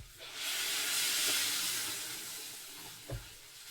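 Boiling water poured onto sautéed vegetables and lentils, a loud rising hiss and sizzle that swells then slowly fades, with a small clunk near the end, no talking.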